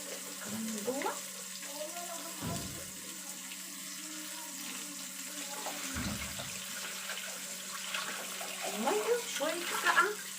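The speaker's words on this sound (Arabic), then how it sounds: "الميه الساقعه اللي انا بفتحها دي لازم ميه سخنه" Cold water runs steadily from a kitchen tap while dishes are washed, a continuous close splashing hiss with a few brief louder knocks, and faint talking in the background.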